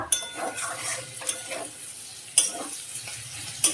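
Chili chicken fries in a pan with a steady sizzle, broken by stirring scrapes and a few sharp metallic clinks of a utensil against the pan.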